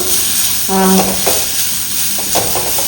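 Freshly grated coconut with curry leaves roasts in a pan for a Mangalore-style sprouts sukka, giving a steady sizzle with scraping stirs and a short metallic clink from the pan.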